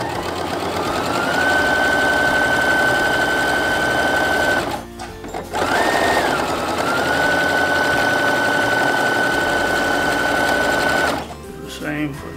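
Sewing machine stitching down the sides of a dress pocket, a loud continuous run with a steady whine, broken by a short pause midway and stopping near the end.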